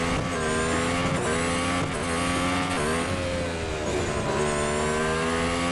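A racing car engine in the mobile game Real Racing 3 drones steadily at high revs, a continuous loud whine with slight pitch shifts as it accelerates, alone without talk.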